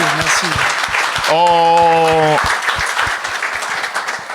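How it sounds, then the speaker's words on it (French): A stand-up comedy audience applauds steadily throughout, loud and close. A voice speaks over the applause, and a short sustained tone sounds in the middle. "Mais bonne main d'applaudissement."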